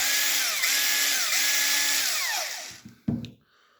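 A Panasonic EY7440 14.4V cordless drill, just fitted with a replacement motor, whirs steadily and close for a few seconds, its pitch dipping briefly a couple of times, then winds down and stops, followed by a short clunk.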